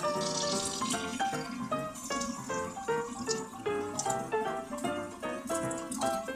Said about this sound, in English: It looks like the butter has melted. Let's add our milk.